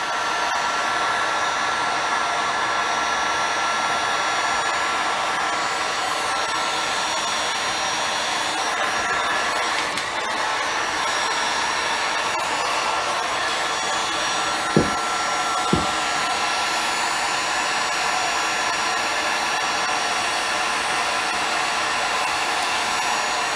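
A hair dryer blows over a refinished gun stock with a continuous, steady airy roar throughout, close and fairly loud, with two faint clicks partway through.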